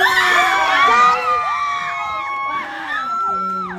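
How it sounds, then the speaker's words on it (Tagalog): A loud crowd at a Jollibee 13th birthday celebration cheers and shouts with excited voices. Applause isn't clearly distinct beneath the whooping. "Isang malakas na palakpakan may kasamang sigaw!"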